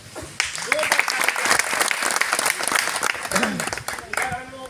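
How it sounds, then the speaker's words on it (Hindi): Loud applause from a political rally crowd in Jakhania, Uttar Pradesh, a dense steady wash of clapping with voices and cheers mixed in, lasting throughout. "जोरदार ताली बजाते हैं"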